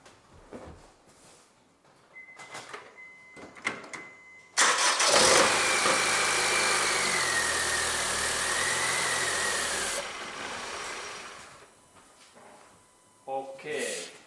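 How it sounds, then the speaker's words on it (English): A Honda Civic engine cranks and fires up abruptly, then runs at a steady, loud idle for several seconds before cutting out, with quiet clicks and handling noises around it. "now I go to start my car, that we can hear that how this engine really starts"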